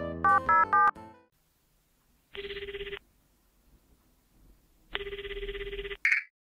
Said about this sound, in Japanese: じゃあマリサにかけてみよう。